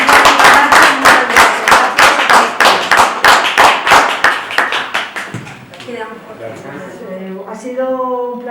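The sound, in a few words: audience applause for the event collaborators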